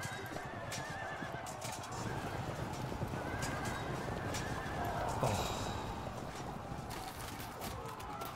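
Horses of enemy knights in the medieval battle game Field of Glory II neigh and whinny amid a steady clatter of hooves and a dense battle din, loud and continuous, with no talk.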